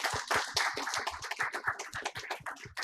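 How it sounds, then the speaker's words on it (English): Applause at a live celebration of Ukraine's Independence: a dense, close burst of many hands clapping in quick irregular claps, steady for a few seconds, with no voices over it. "A big round of applause, ladies and gentlemen."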